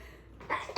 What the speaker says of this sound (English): oh, I might sneeze.